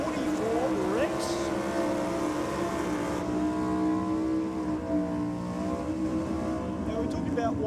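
A nitro drag racing car idles with its engine running rich, a steady rumbling drone with droning harmonics while a commentator talks over it.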